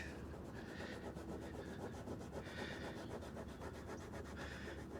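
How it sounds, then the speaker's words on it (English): Steady rhythmic rubbing of compound by hand on trim of a Mercedes S500, faint and close, a repeated back-and-forth scrubbing stroke continuing evenly throughout with no talk. "We're going to give this rubbing compound a little try."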